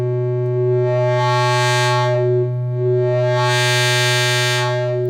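A buzzy, harsh synthesizer tone holds steady while its filter sweeps slowly up into a bright scream and back down, twice.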